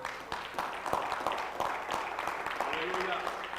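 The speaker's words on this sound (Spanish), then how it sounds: "Den un aplauso al Señor." A church congregation applauds the Lord during a Spanish-language service, producing steady, dense clapping with a few sharper claps over the full stretch, mixed with background voices.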